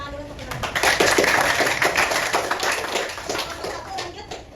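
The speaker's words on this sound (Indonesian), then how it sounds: "tepuk tangan dulu untuk kelompok 1" Students in a classroom applaud a student group, a steady patter of many hands clapping at moderate volume with voices mixed in.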